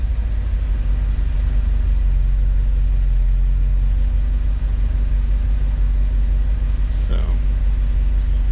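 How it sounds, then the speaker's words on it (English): An International Scout engine with low oil pressure when hot runs close and loud with a deep, steady drone, held at elevated revs for the whole stretch rather than rising in sharp bursts, with no talk over it. "See, I can still rev it and get it over 30 psi."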